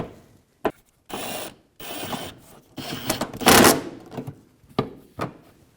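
A ratchet fitted with a 10mm socket turns a fender well bolt on a 2009-2014 Nissan Maxima, giving bursts of rapid clicking between short pauses, close and fairly loud, with no voices.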